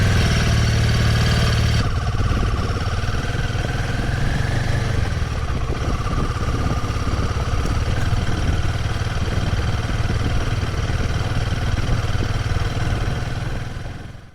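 A Royal Enfield Himalayan 450 motorcycle engine runs steadily while riding on open roads, a loud continuous mid-pitched drone with rumbling low end and wind buffeting throughout, easing slightly near the end.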